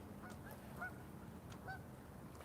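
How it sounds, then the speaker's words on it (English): Geese honk out of doors, a few distinct nasal calls spaced unevenly over a steady background hum, fairly faint and somewhat distant, with no talking. "I am not messing with these geese today"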